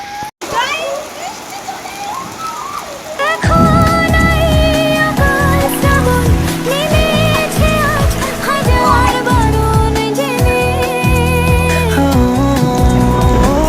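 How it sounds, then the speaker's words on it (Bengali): Steady heavy rain hisses loudly throughout, with music playing over it after the first few seconds. "বৃষ্টি চলে এসেছে।"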